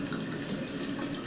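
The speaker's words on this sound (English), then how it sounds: "let me pour it in my pirate tanker here" Mount Gay Black Barrel rum poured into a rubber pirate tankard, a short, steady, close-up gurgling splash of liquid without a break.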